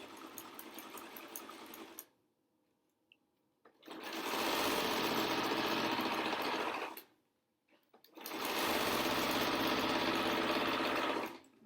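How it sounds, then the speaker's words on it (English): Sewing machine zigzag stitching across a wire sewn into a fabric N95 replacement mask, with two loud sustained runs of steady motor whir and needle clatter separated by pauses. "Okay, then go to zigzag, and zigzag across your wire."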